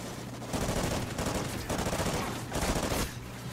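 Sustained gunfire in the video game Call of Duty Ghosts, dense rapid bursts of automatic weapon fire coming in waves across a few seconds, fairly loud and continuous with no voices over it.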